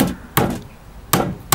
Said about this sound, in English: So we will hammer that there.